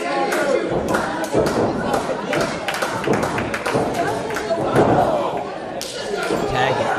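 A wrestler's leg drop slams the ring at an indoor amateur wrestling show, heard as thuds and impacts among crowd noise, clapping and excited commentary throughout.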